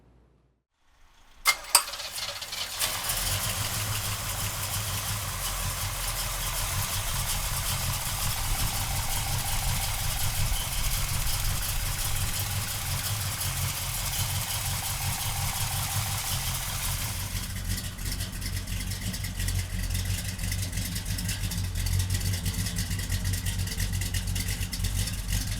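A 1965 Pontiac GTO cranks briefly and fires, then settles into a steady, loud, rumbling idle that holds for over twenty seconds, its tone shifting slightly partway through, with no one talking.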